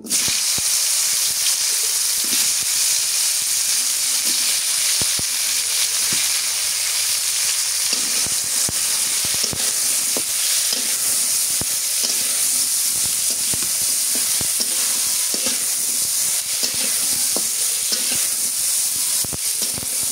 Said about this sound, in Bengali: কল্যাটা তেলে ভাজে নেই।